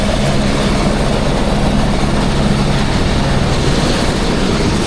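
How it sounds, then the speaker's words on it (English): An airplane engine drones steadily while descending to land at a short, steep mountain airport near Mount Everest, a loud, continuous propeller hum with no break throughout. "there's a plane coming into land"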